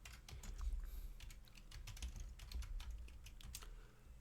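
Fingers type a command on a computer keyboard, a quick, irregular run of light key clicks close by with no talk.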